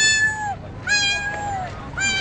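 A person imitates a cat by whistling, producing three drawn-out, meow-like whistled calls with falling pitch, close and fairly loud, with no talking.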